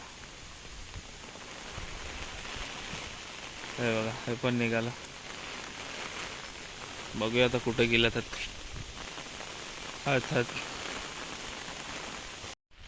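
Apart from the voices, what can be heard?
rain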